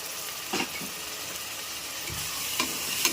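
Curd goes into sizzling mutton biryani masala frying in oil, producing a constant soft sizzle punctuated by a few short scraping stirs and splats.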